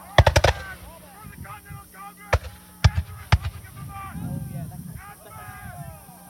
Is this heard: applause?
no